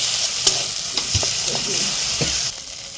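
Chili and turmeric powder frying in a pan, sizzling steadily while a spoon scrapes and stirs with a few sharp clinks; the hiss drops off near the end.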